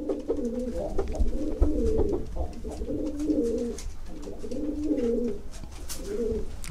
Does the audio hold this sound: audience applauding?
no